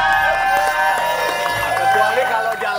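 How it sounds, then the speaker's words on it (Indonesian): Studio audience on an Indonesian TV gossip talk show cheering and clapping, a loud steady crowd roar with whoops and shouts filling the whole moment. "Tepuk tangan dulu."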